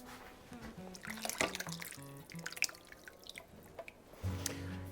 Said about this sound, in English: We're going to add 28 ounces of crushed tomatoes.